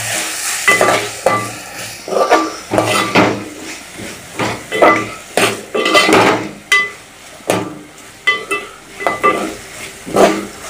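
Khichdi masala being stirred in a metal pot after red chilli powder goes in, with a spoon knocking and scraping in a steady repeated rhythm over faint frying, close and fairly loud.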